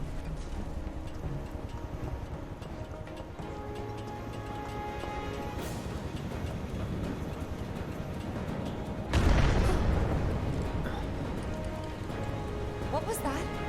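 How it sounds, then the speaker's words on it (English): A sudden, loud explosion booms about two-thirds of the way through Final Fantasy VII Remake gameplay, then rumbles away. Before it comes a quieter stretch of game ambience with voices talking. "An explosion."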